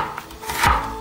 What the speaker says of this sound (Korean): 양파는